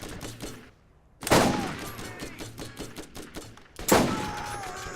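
Gunfire in the Borderlands shooter: two loud, close bursts of shots, each cracking sharply and then ringing out, with a quieter pattering of rapid fire between them and no talking.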